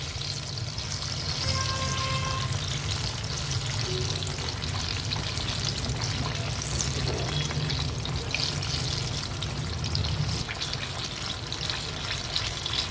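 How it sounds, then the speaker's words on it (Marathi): Battered jackfruit pakodas deep-fry in hot oil over a medium flame, giving a steady, continuous sizzle and crackle, with occasional soft stirring sounds and no talk. "मीडियम फ्लेमवरच कंटिन्यू त्याला स्टर करत आपण ही व्यवस्थित तळून घेणार आहोत"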